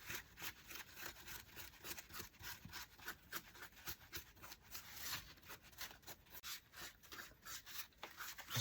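Cloth wiping wax back off a fall pumpkin decoration, pressing wax into the crevices and clearing the raised leaf, a steady rhythmic rubbing close by and fairly quiet, alone.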